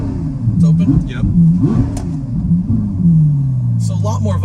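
A Ferrari F12 Berlinetta V12 fitted with a Valvetronic Fi exhaust, valves open, revs in rising and falling blips, then holds a long steady drone, loud and near, with a voice talking over it.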